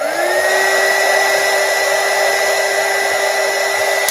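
An embossing heat tool blows steadily while heat-setting embossing powder during a Build-A-Flower Indian Lotus project, a loud, continuous whirring hiss with a steady whine that holds unchanged throughout, no voices.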